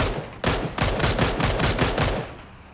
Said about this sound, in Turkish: Biri ateş etti. Biri buradan ateş etti.